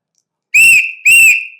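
A whistle is blown twice in short, loud, shrill blasts, close by and clear, with a brief gap between them.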